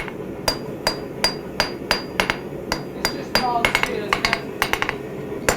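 Hammer blows strike mild steel while forging a taper, ringing out as sharp metallic clinks in a fairly even rhythm about twice a second, with a faster flurry near the end, close and clear over a low workshop background.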